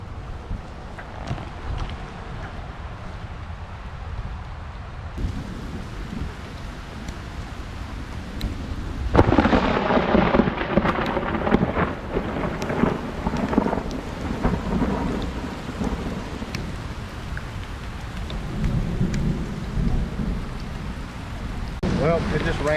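Heavy rain pouring down with rolling thunder, a steady hiss that swells into a loud, crackling thunderclap near the middle, then settles back into continuous downpour with further rumbles.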